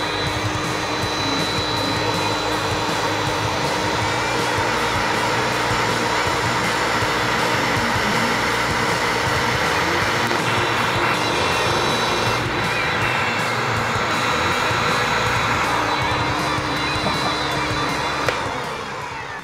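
An 18V battery magnetic drill bores through a 5 cm steel plate, giving a loud, continuous grinding roar with a steady motor whine that holds unbroken for the whole stretch, no voices over it.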